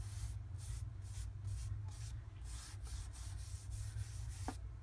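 Clear gesso daubed onto an art journal page, a series of soft rhythmic dabbing and brushing strokes repeating at an even pace, quiet and close with no talking.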